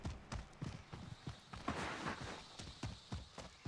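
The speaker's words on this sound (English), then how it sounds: "I knew that he jumped out because I can hear this footstep sound." Quick footsteps run across grass in the Warzone video game, a soft rhythmic patter of steps heard faint and fairly quiet, with no talk over them.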